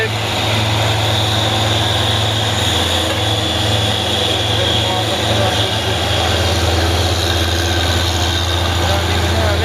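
A truck pulling a trailer up a hill, its engine droning low and steady at a constant loud level, heavy and close with no clear rise in revs.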